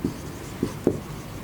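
Pen strokes on paper while notes are written during a biology lesson on annelids, three short scratchy marks spaced apart, close and fairly quiet over a faint steady background hiss.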